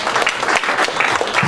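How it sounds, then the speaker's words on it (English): Congregation clapping hands in praise during a Messianic Jewish worship service, a dense, steady burst of many hands close and loud throughout. "Give the Lord a hand clap for praise."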